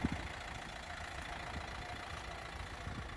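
A quiet Renault Megane GT-Line (2012–2013) engine idles steadily, a faint low rumble with light knocking under a soft hiss.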